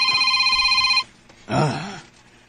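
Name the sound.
telephone ringing in a radio drama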